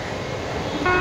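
A steady low engine rumble, then a short, sharp Indian Railways train horn blast begins near the end, loud and close.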